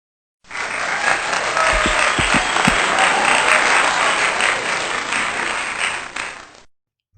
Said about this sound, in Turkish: Madem videoyu alkışlayacak kadar beğendiniz